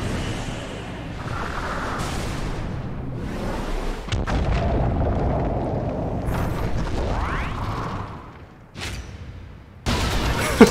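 Rapid bazooka fire in the mecha video game Megaton Musashi, a series of heavy booming blasts and explosions in quick succession, loud and close with game sound effects between the shots.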